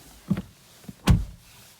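The door of a new Peugeot 2008 1.5 BlueHDI is swung and shut with one solid, deep thud after a lighter latch click, close and alone.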